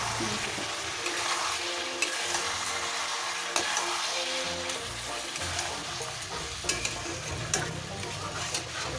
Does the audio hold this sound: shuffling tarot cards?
no